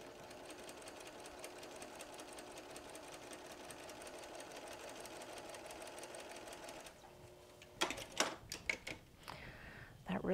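A sewing machine stitching a quilt block runs in a quiet, rapid, even chatter for several seconds, then stops, followed by a few sharp handling clicks and bumps nearby.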